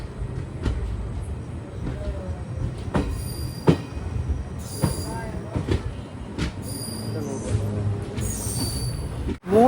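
A passenger train pulls out of Needamangalam station, heading for Thanjavur, with a steady heavy rumble of rolling wagons, repeated rail clicks and occasional sharp metallic squeals and clanks, heard close by from on board.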